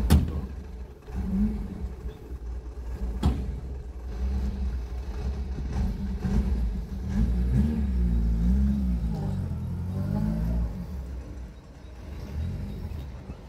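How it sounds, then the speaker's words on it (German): A Honda S800 Cabriolet roadster's small engine revs and rumbles steadily throughout, with voices talking over it. "Roadster S800 Cabriolet von Honda"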